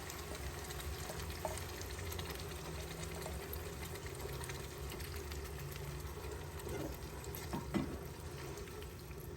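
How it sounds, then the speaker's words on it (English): Blended tomato and chili pepper sizzling in a pan with well-cooked onions, a faint, steady fry hiss running throughout with a couple of soft stirring knocks near the end. "just gonna add all the tomatoes that I blended with the chili pepper"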